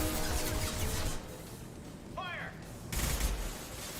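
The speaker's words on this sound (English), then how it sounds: "Firing concussive shot!" In the video game Mass Effect 2, a concussive shot fires amid a burst of game combat noise, with a brief rising whistle-like tone and a rumbling thump over a dense background of battle sounds.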